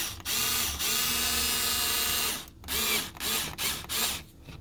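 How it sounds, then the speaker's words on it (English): A cordless electric screwdriver drives screws clockwise back into the clips of an Acura MDX battery area. It whirs steadily for about two seconds, then fires several short, ratcheting bursts, close and loud. "you're going to use your electric screwdriver to go clockwise to screw them back in"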